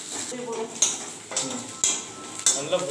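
Onions frying in a pan for jeera pulao, with cashews to follow, giving a low sizzle broken by metallic clanks and scrapes of stirring, close and fairly loud.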